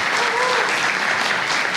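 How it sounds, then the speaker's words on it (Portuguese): Brief burst of audience applause in a church setting, dense and steady clapping at moderate loudness with a faint voice underneath. "Então vamos aplaudir essa palavra agora"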